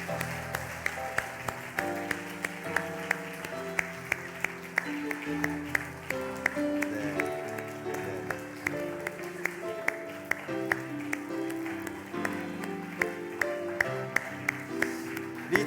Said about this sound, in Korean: 여러분들 다시 한번 이 5분을 향하여서 박수로 다시 한번 축하드리겠습니다